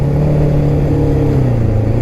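A Suzuki GS550 four-cylinder motorcycle with 22,600 miles idles and revs up close, its low steady engine hum rising and dipping in pitch with no voices over it.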